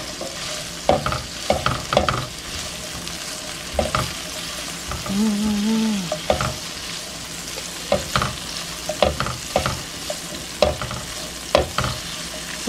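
Vegetables frying in a mix of oil and butter for oven chicken thighs, a steady close sizzle with repeated scraping stirs of a utensil against the pan, briefly joined by a short tonal squeak.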